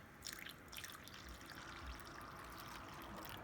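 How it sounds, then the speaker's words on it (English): Water poured into a pan of crab fried rice, a steady faint splashing trickle with liquid drips running for a few seconds with no talking. "Now we're going to top it off with the water"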